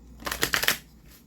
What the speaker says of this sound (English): Oops, I'm trying to shuffle.